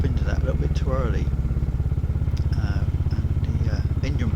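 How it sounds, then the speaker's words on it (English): Royal Enfield Hunter motorcycle in first gear on country roads, engine braking into a tight corner: a steady low rumbling engine pulse runs throughout, close and loud, with a person talking over it. "the engine braking kicks in. It slows the bike down"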